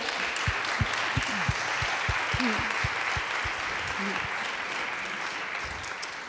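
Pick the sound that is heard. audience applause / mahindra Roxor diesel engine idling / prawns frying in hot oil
audience applause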